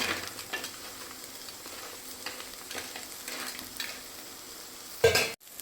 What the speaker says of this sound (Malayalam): ക്രാബ് വെന്ത് ചുമന്ന കളറായിട്ടുണ്ട് നമുക്ക് ഇന്ന് ഇളക്കി കൊടുക്കാം